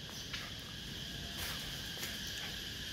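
Cicadas in summer drone in a continuous high, shrill chorus with slight pulsing, steady and moderately loud with no voices.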